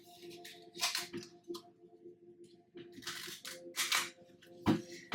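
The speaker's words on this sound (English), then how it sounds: "One last shuffle." Tarot cards being shuffled by hand, crisp papery riffles and slaps in several quick bursts, fairly close but soft, over a faint steady background hum.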